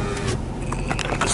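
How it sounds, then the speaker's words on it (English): Electric windows of a car in snowy weather whir briefly, a motor hum that starts, pauses and resumes, close and fairly loud with no talk. "wipe off the window with my electric windows"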